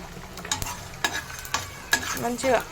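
Spices for a fish pickle frying and being stirred in a pan, close up, with a dense sizzle and repeated scraping strokes, no voices.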